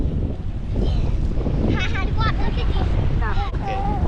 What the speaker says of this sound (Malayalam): കാറ്റ് കണ്ടില്ലേ